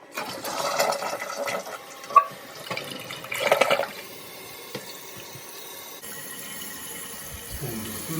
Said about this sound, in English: Okay, let's flush it.